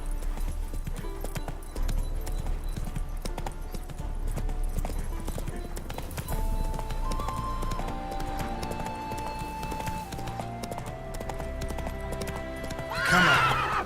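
Roach, the horse in The Witcher 3: Wild Hunt (Hearts of Stone DLC), gallops with steady rhythmic hoofbeats under game music, with a loud whinny near the end and talk over it.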